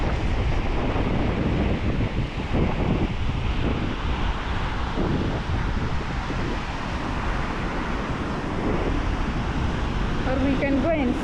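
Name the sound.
ocean waves on Diani beach, Kenya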